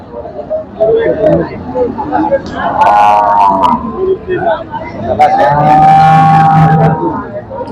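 Cattle lowing among a busy crowd at a cattle market, with long moos of cows rising over nearby chatter and market bustle.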